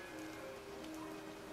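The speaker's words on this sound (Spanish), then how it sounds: "Está lloviendo, ¿no?" Rain falls as a faint, steady hiss during a rainy funeral scene in an anime episode, continuous and even with no talk over it.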